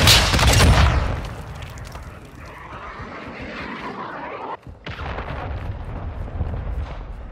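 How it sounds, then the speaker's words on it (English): A cruise missile launch in Call of Duty: Modern Warfare 2 opens with a loud, deep roaring blast that fades into a sustained rushing rumble, broken by a brief dropout before the rumble resumes. "Hostiles launched a cruise missile."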